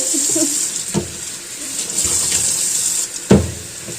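Water runs from a tap into a container, a steady bright hiss and splash broken by a couple of louder knocks and gurgles close by.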